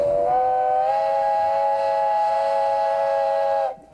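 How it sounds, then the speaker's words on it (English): A steam locomotive whistle at the Como depot in Colorado sounds one long, loud, steady chord for about three and a half seconds, then cuts off sharply, with no talk. "We really never expected a steam locomotive."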